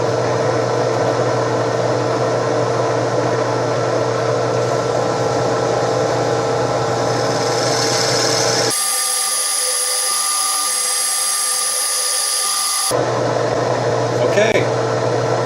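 Machining machine cutting a part clamped in a vise, a loud, steady, close mechanical whine and hum that abruptly shifts to a higher, thinner tone for several seconds, then returns to the earlier drone.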